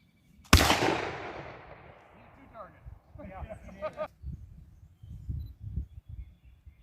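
At an outdoor rendezvous shoot, a single sharp gunshot at a target cracks out and rings away into a long fading tail, followed by a faint later report while someone speaks quietly nearby.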